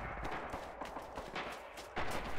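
Quiet bursts of gunfire in a multiplayer shooter game, several sharp shots in quick irregular succession at moderate distance, no talk.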